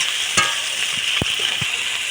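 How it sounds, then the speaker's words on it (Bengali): Onion and tomato frying in oil in a pan, a steady bright sizzle with a few soft stirring knocks, close and continuous with no talk. "পেঁয়াজ আর টমেটো আমি একটু ভালো করে ভেজে নেব।"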